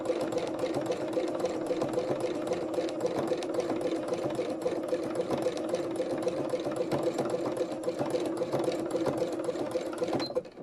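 A sewing machine runs free motion zigzag stitching with a fast, even mechanical whir and rapid needle ticking. The sound is steady and moderately quiet until it stops near the end.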